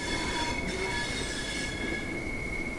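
A Class 465 electric train in Train Sim World 2 brakes to a stop, with a steady rolling rumble and a thin, sustained brake squeal running throughout, no talk.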